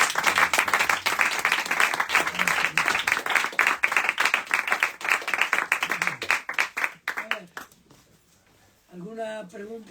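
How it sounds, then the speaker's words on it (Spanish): An audience at a Spanish book presentation for a Premio Nadal-winning novel claps in a loud, full round of applause that gradually thins out and stops, followed by a brief burst of speech at the end. "Denme un aplauso."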